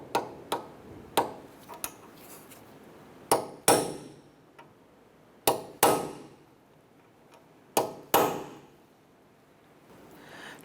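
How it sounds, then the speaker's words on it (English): A hammer strikes a punch to dimple the axle nut on a 2008-2012 Honda Accord front hub, giving sharp metallic taps in spaced groups, some single and some doubled, each ringing briefly before fading. "we're going to go ahead and use a punch, and we're going to dimple the axle nut"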